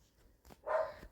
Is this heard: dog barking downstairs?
yes